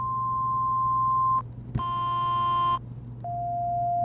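A steady sine tone from a Macchiato DIY synthesizer kit sounds, breaks off, returns buzzier with added overtones, then settles on a slightly lower pure tone. No voices.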